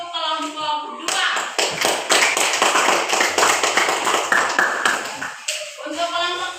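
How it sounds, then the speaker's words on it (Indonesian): Students in a primary school classroom clapping for a group that has just presented, a burst of many hands that starts abruptly, holds steady for about four seconds and stops, with a teacher's voice just before and after. "Tepuk tangan untuk kelompok 2."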